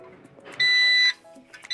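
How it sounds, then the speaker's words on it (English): A single high electronic beep from a heat press as it heats up, steady for about half a second, with faint background noise before and after. "Then we have another beep."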